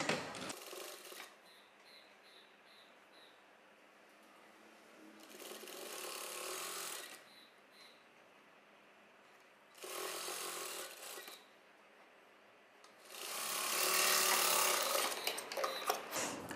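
A sewing machine stitches a puffed blouse sleeve in bursts: a short run, a pause, then longer runs with quiet gaps of faint handling between them, the last stretch the loudest and longest.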